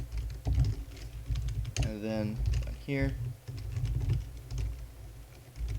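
Code typed on a computer keyboard, a run of quick close key clicks throughout, under someone speaking.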